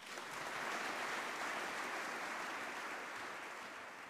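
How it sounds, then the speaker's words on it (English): A hall audience gives sustained, steady applause to welcome the guest of honor at a discussion event on the Radical Enlightenment, a dense wash of clapping that holds evenly throughout. "greet with a warm applause"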